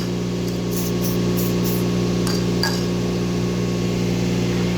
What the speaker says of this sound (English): Our ScanTech spray.